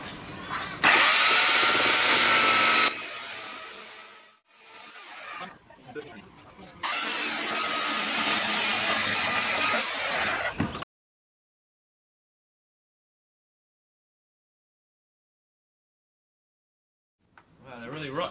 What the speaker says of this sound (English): If I cut the bottom one first it would actually close the joint and jam the chainsaw